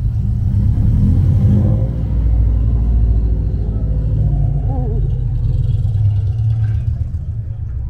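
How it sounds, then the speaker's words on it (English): A BMW pulling out onto a race track at an Argentine track day, its engine a loud, steady rumble with a slight rise in revs, heard close up. "BMW is going out."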